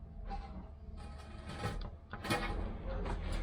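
Faint metallic rattling and clattering from a loose nut inside a tin can, irregular and close, with mechanical creaks, heard during a 1973 Triumph Stag differential change.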